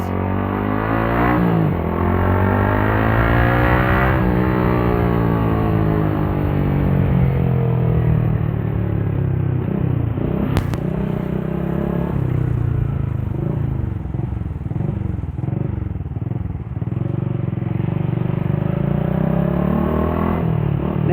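Yamaha Vixion motorcycle being ridden, its engine droning steadily and loud close-up, with rising and falling revs as it accelerates and shifts through gears, plus wind rush throughout.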